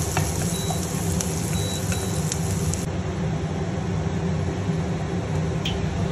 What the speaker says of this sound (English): Now we add some butter and fried onions in the pan.